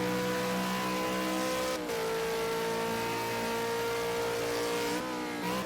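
A V8 Supercar engine in Project Cars 2 at Road America drones steadily at high revs, its pitch easing and dipping briefly around corners under throttle control and engine braking, loud and continuous with no talk.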